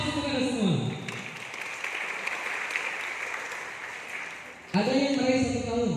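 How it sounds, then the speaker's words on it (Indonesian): Audience applause at a business partnership seminar, as a steady wash of clapping that fills the middle of the clip between stretches of amplified speech. "Aplaus untuk Anda semua."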